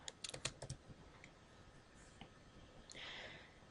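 Fingers tap out a username and password on a computer keyboard in a short quick burst of clicks, then a few isolated keystrokes, close and moderately loud with no talking.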